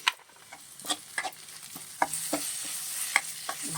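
Crab pieces stirred in a pan with green chilli and ginger garlic paste, village style, with a low sizzle under irregular scraping and clinking spoon strokes, close by.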